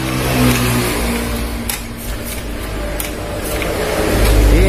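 A fuel-injected motorcycle engine with its air filter removed and a loss of power runs loudly and close. Its droning note wavers and rises into a rev at the end.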